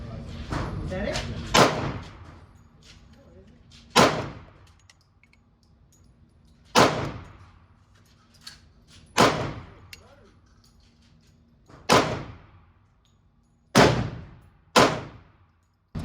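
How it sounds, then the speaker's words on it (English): Sharp pistol shots ring out at a shooting range from a Glock 23 and Smith & Wesson pistols in .40 caliber, fired at 7 yards, about eight loud reports spaced a few seconds apart, each with a short decaying echo. "So now we're shooting 240, so Glock 23 and Smith & Wesson here."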